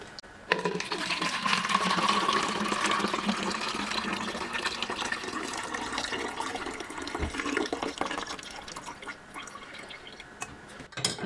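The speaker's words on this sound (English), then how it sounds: "now what I'm going to do is pour this into a container." A boiled homemade detox drink poured from a pot into a container, a steady continuous stream of liquid splashing and filling for several seconds, close and fairly loud, with no talking.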